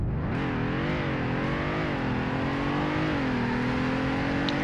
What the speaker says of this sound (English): Now for acceleration. 3, 2, 1, go.